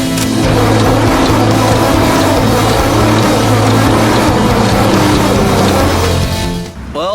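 An abandoned, moss-covered four-cylinder farm tractor engine cranks over steadily during a compression test on cylinder 3, a loud close mechanical churn that holds for several seconds before cutting off.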